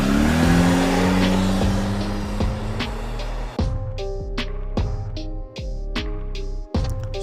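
A car engine revs and drives off in an animated cartoon, a sustained engine drone with a few shifts in pitch and repeated bright clicking accents as it pulls away.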